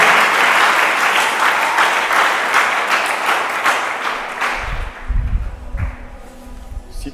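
A church congregation at a Lubumbashi gathering applauds together, loud dense clapping that carries on steadily and then thins out, giving way to low rumbling thumps near the end.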